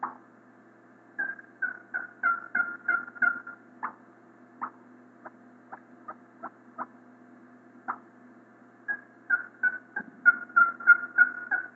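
A turkey calling champion imitates a hen turkey with a call, producing bursts of sharp, rapid yelps and clucks in clustered runs separated by sparser single notes, clear and close with no talk over it.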